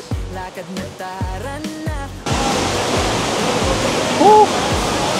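Music plays briefly, then cuts to a loud, steady roar of rushing water from nearby Ubot Falls in Maria Aurora, Philippines, with a short whistle-like tone near the end.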